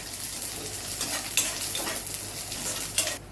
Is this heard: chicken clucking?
no